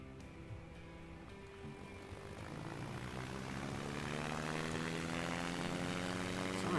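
A propeller aircraft in a flight simulator game revs up for takeoff, its engine drone rising steadily in pitch and loudness with layered harmonic tones and no talking.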